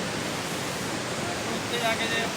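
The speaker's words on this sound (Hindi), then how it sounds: "ओह ये झरना बह रहा भाई" Waterfall on the Kheerganga trek, a steady loud broadband rush of falling water close by, continuous throughout with faint voices briefly audible underneath.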